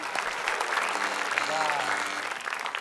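A studio audience on a quiz game show applauds steadily after team A scores 100 points. The clapping is dense and continuous throughout, with voices talking underneath.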